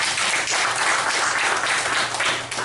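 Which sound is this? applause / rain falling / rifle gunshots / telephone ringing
applause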